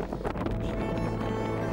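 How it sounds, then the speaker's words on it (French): Strong wind roaring across an open, wild valley, a steady loud broadband rush with gusty buffeting and no voices. "il y a énormément de vent"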